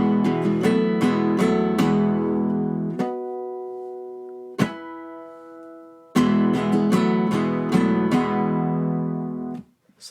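Acoustic guitar strumming the rhythm pattern for a song, a groove of quick strums with accented hits, a sustained ringing chord around the middle, then strumming again before a sudden stop; close and alone.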